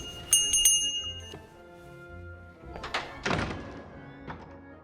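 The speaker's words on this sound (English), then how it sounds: "The nice thing about the bell, Bill can't ignore me" A bell rung in the point-and-click adventure game The Book of Unwritten Tales 2, heard as a few bright ringing strikes at the start over a low game background, followed by some thuds and knocks.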